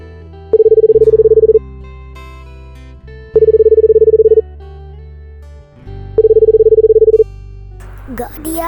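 A phone's outgoing call ringback tone sounds three times, each a steady buzzing burst of about a second separated by long pauses, with low background hum and a brief shuffle at the end.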